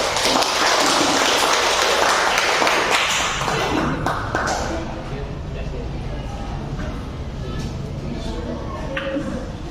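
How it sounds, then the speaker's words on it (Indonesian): A school class applauding a student group about to present, loud, dense clapping from many hands for about four seconds, then fading into scattered claps and room chatter. "Supaya lebih bersemangat, kasih tepuk tangan dulu."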